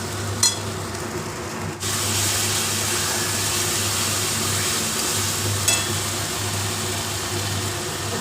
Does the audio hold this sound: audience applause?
no